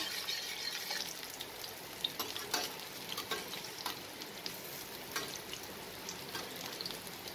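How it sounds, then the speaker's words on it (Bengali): Dal bora lentil fritters sizzle in hot oil, a soft continuous crackle with occasional stirring and ladling clinks, fairly quiet, with no voices. "একটা পিঠ ভালো করে ভাজা হলে তারপর আমি এটাকে উল্টে দেব"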